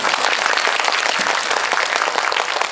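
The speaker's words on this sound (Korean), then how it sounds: "박수 부탁드립니다" Dense, steady audience applause fills a cinema hall at a Korean film talk event, broad and continuous from start to finish with no voices above it.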